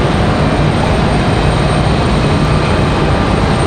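Southwest Airlines jet departing Raleigh-Durham International Airport, bound for Tampa, a loud, steady broadband engine roar with no let-up throughout.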